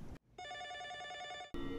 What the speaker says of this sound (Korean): 사이퍼의 사무실에 전화가 오죠.